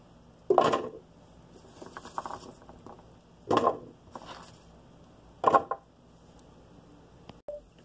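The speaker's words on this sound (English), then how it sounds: "you just go ahead chop the celery" Knife chopping celery on a cutting board for juice, three sharp, close, separate cuts spaced a few seconds apart, with softer handling sounds between them in a quiet kitchen.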